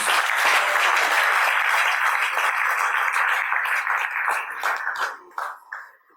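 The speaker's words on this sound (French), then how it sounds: "Peut-on bien se comporter et dire bienvenue en applaudissant très fort pour chacun?" Loud welcoming applause from the audience at a French-language conference panel on entrepreneurship, many hands clapping densely and close at first, then thinning into scattered last claps and fading out.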